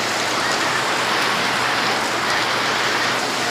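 Heavy rain pouring steadily, a dense continuous hiss of drops hitting surfaces nearby, loud and unbroken.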